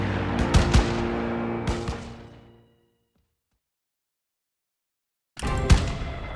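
Gunfire in the video game Call of Duty WW2: loud, close, dense bursts of shots crackle, fade into a few seconds of silence, then burst out again.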